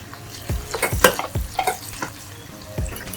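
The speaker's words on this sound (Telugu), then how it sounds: "ఇప్పుడు మనం మామిడికాయ ముక్కలు వేద్దాం." Raw mango pieces frying in a pan with curry leaves and turmeric, a soft sizzle broken by repeated close scraping strokes of a spoon stirring, no talking.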